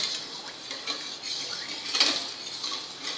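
Sugar scraped and stirred around a pan to make gulab jamun syrup, a steady close scratching with light metallic clinks and one sharper knock midway, no voices.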